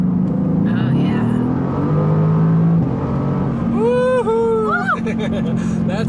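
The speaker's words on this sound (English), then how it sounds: "It even has a cool button here that makes the exhaust sound really good." A 2018 Mercedes-Benz AMG GT C sports car exhaust revs hard and loud, engine pitch climbing and dropping in quick bursts over steady road noise, with a voice talking partway through.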